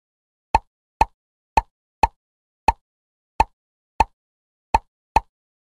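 Cartoon bubble pops, nine short crisp plops in a loose irregular rhythm, each isolated against silence.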